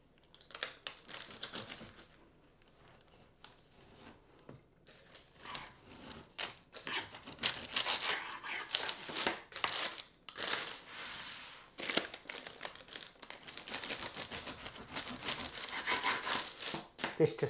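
Knife cutting the edges off a tray of baked dark chocolate and cherry flapjacks, giving repeated crunchy, crumbly cuts and scraping against the board, fairly close, with a few brief gaps.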